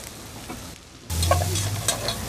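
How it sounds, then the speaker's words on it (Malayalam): Curry leaves fry with shallots and onion in a Kerala home kitchen, a quieter sizzle that swells suddenly into a louder crackle and low hum, with a couple of light stirring clinks and no speech. "അപ്പോൾ കറിവേപ്പില കുറച്ചിട്ടിട്ടുണ്ട്"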